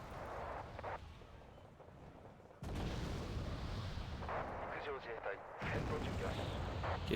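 Heavy gunfire and artillery-like booms from the real-time strategy game Wargame: Red Dragon, a dense continuous rumble of shots that grows louder partway through, with no talking.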